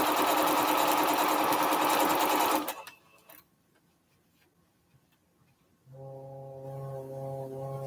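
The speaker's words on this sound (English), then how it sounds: "there goes my refrigerator. Making all the noise." Household refrigerator compressor starting up partway through: a steady low hum with harmonic tones that swells in after a loud sewing-machine run and a quiet pause.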